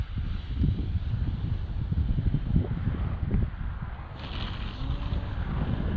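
Gusty wind buffets the microphone at an outdoor model airfield, a continuous low rumble with irregular swells and no voices.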